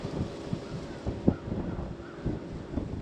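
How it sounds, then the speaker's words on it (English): Strong gusty wind buffets the microphone outdoors on a farm during a cold front, a constant low rumble with irregular louder gusts over about three seconds. "that wind is ripping today"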